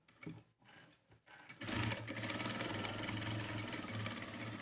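A sewing machine runs steadily, stitching around the edge of fabric for a small phone pouch, its motor hum and needle rattle starting after a few faint clicks and continuing loud and continuous with no talk.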